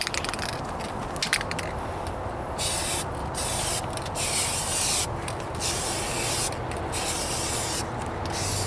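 Rattle can spray paint hissing in steady bursts as a light first coat goes onto the trunk and rear bumper of a 1998 Toyota Corolla, close and continuous with brief pauses between passes.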